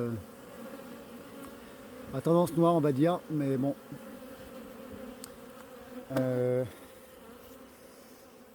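Honeybees buzzing around hives at an apiary in late October, part of a mixed colony with many yellow-banded bees: a constant low hum runs throughout beneath a voice, which speaks in short bursts.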